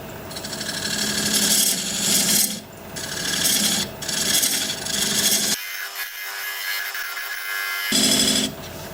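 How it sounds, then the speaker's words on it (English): A diamond point tool squares the sides of a tenon on a wood lathe, giving a loud, close, continuous scraping rasp that pulses with each pass, drops to a thinner hum midway, then returns. "Now I'm just going to take this diamond point tool and square up the sides of the tenon."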